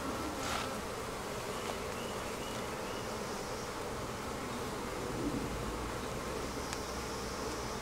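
Honey bees inside an opened beehive box during a hive inspection, a dense steady buzzing hum that fills the whole stretch, close and even, with no talking.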